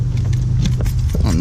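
A 2018 Toyota Camry SE car key handled up close, giving a brief loud metallic jangle over a low steady rumble, with no talking.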